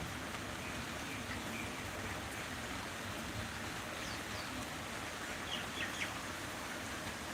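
Steady rain falls in a hot-season downpour as an even, close wash of patter, with faint birds calling now and then through it.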